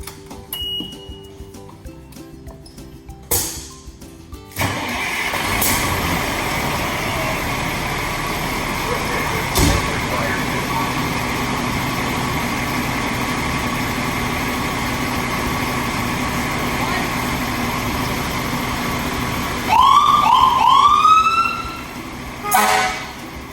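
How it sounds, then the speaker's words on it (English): A big fire truck at a fire station runs its engine as a steady loud rumble, with horn toots near the start and a rising, wailing siren burst near the end, up close. "It's a big fire truck."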